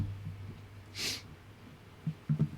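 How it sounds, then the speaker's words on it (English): A congested person gives one short, sharp sniffle through the nose in an otherwise quiet moment, followed by a few soft breathy noises. "I'm sniffling a lot, so I'm a little congested"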